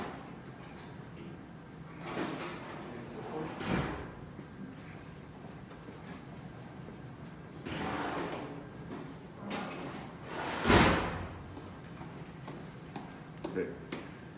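A kitchen drawer is pulled open and its contents are rummaged through, with several faint slides, rattles and clunks spread out over quiet gaps and a louder knock near the end, as people talk softly now and then.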